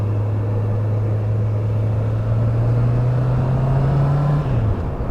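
A Honda CB650R A2 (35 kW) motorcycle on a test ride gives off a steady, close engine drone that climbs slightly in pitch and then drops away at the end, with constant road rumble beneath.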